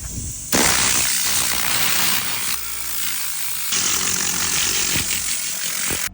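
A Tornador air-powered cleaning gun in a car interior gives a loud, continuous air-driven hiss that blasts steadily for several seconds, wavering in intensity with brief dips, close to the microphone and without voices.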